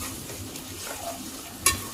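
Onions frying in a pan for a Telugu amaranth-leaf and urad dal vadiyalu curry, a soft steady sizzle with light stirring, ending in one sharp clink of a utensil against the pan.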